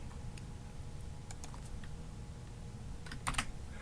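Faint, sparse typing on a computer keyboard, a few scattered key clicks and a short cluster near the end over a low room hum.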